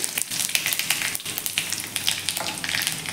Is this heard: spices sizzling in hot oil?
yes